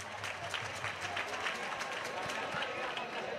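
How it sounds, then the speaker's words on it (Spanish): Football crowd at a CF Gandia vs Castellonense match breaking into sustained ironic applause, a steady patter of many clapping hands spread across the stands, with voices talking over it. "La gent ja aplaudeix en ironia"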